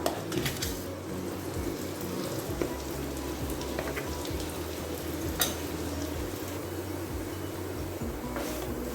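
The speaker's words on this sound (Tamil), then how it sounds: "இந்த நெய்யில் இந்த அரைச்ச விழுதை போட்டு நல்லா சிம்மில் வச்சு ஸ்டவ்வை வதக்கி எடுத்துக்கலாம்." Ground paste sautés in ghee over a low flame on a stove, a soft continuous sizzle with occasional stirring scrapes and a few sharp clinks, alone without any voice.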